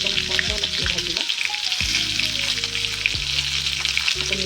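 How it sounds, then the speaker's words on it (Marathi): Green chillies and curry leaves hit hot oil already holding mustard seeds and cumin, giving a loud, steady sizzle and crackle that runs throughout with occasional stirring and no speech. "आता टाकणार आहे मिरची आणि कढीपत्ता."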